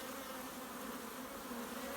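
A dense, steady buzzing of many honeybees around a hive in swarm mode, close and continuous, without any voices.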